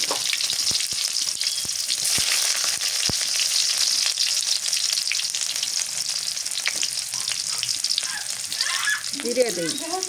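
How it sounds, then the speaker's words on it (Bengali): Bitter gourd frying in a pan, with a loud, dense hiss of hot oil throughout and a few scattered ticks and pops, close by, and no talking. "করলা ভাজি"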